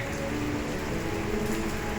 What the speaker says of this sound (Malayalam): മഴയത്ത് ചെറിയ മഴയുള്ളൂ.